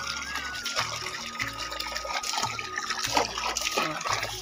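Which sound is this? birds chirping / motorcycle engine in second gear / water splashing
water splashing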